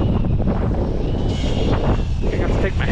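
Heavy wind buffets the microphone outdoors beside a truck in a steady, loud rumble throughout, with a faint voice partly buried underneath.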